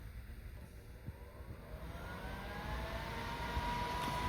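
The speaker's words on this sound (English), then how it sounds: "we have an exhaust fan" The exhaust fan of a Crafit vertical 3D printing cabinet spinning up, a whooshing airflow hum with a faint rising whine that grows gradually louder and steadier.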